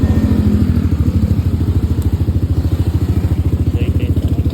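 Yamaha Aerox SP motor scooter with an aftermarket power pipe exhaust, running loud and close with a fast, steady pulsing exhaust beat throughout.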